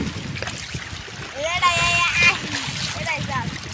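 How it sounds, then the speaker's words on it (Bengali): Waves of the Meghna river splash against the bank nearby in a choppy, continuous wash, with a voice briefly sounding over the water partway through. "এই যে মেঘনা ঢেউ পড়ছে"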